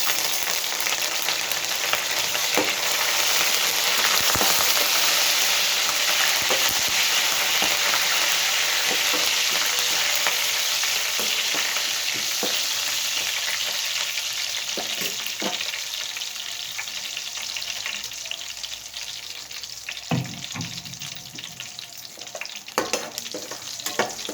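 Garlic pieces, dried red chillies and curry leaves sizzle and crackle steadily in hot oil for a tempering, a dense continuous frying hiss with occasional stirring clatter, close and fairly loud throughout with no talk.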